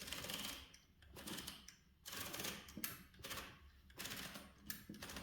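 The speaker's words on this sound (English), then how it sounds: "You see the paper is rolled here." Paper feeding and rolling through the rollers of a 1920 Hammond Multiplex portable typewriter, a series of rhythmic mechanical rattling and clicking bursts, close and fairly quiet.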